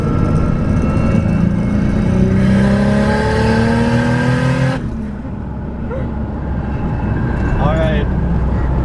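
A Lexus GS300 with a turbocharged 2JZ-GTE engine pulls hard in fourth gear from a roll, its loud rising drone climbing steadily before the throttle lifts and the note drops, with people talking in the cabin.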